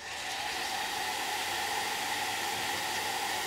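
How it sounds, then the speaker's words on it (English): A blow dryer drying a second layer of paint on DIY pumpkin coasters gives a steady, loud, even whoosh of rushing air that runs unbroken the whole time, with no voices. "So then you can go into your blow dryer, do a blow dryer, go over your second layer."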